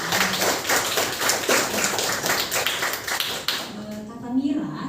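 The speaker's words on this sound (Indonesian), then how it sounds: "Berikan tepuk tangan." A classroom of students claps together, a dense run of quick hand claps lasting a few seconds before tapering off, followed by a teacher's voice.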